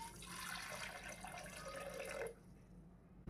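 Water is poured from a tap or vessel onto a bowl of chickpeas with half a spoon of salt, a steady splashing flow that stops abruptly, then quiet; no voices.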